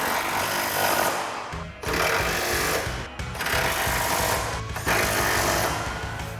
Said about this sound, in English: we'll come back with our 13mm socket and tighten these down